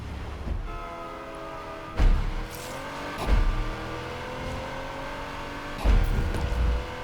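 A Bugatti Chiron in Need for Speed Unbound drives with a steady engine drone and rising, gliding tones as it shifts and accelerates, punctuated by several loud heavy bursts.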